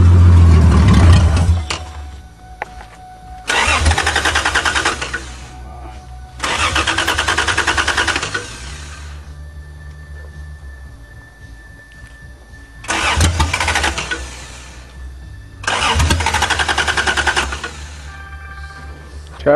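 A 1982 Toyota Cressida running on bad gas cranks over and over without catching: five loud bursts of starter whirring, each a few seconds long, separated by quieter pauses with a low hum.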